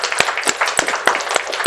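An audience at a policy talk gives a speaker a brief round of applause, a short loud burst of separate claps from several people close by.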